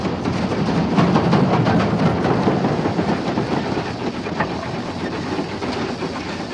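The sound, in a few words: steam locomotive accelerating on Scottish railway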